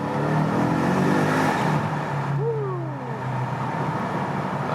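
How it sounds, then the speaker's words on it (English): A BMW M5 engine drones steadily with a deep rumble and rising whine, echoing in a tunnel with the window lowered, with a brief pitch sweep midway. "Let's lower the window."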